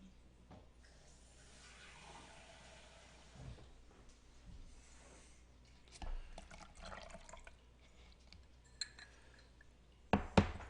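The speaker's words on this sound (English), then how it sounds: "We're going to add 1/2 cup of water." Half a cup of water poured into crepe batter of milk and melted butter, heard as faint, quiet trickling and a few soft drips, with a sharper clatter of kitchenware near the end.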